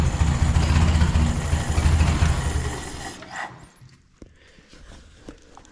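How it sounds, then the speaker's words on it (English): A Ford 641 tractor engine runs at a low, rough idle, loud and close at first with a deep steady rumble, then fades away as it is shut off, leaving quiet clicks and faint handling noise. "I guess it does idle just really low."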